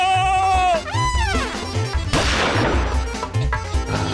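A cartoon gunshot rings out as a sharp crashing burst in the middle, surrounded by busy music with sweeping tones and other comic effects.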